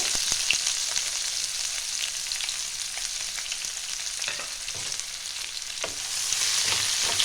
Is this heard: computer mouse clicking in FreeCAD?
no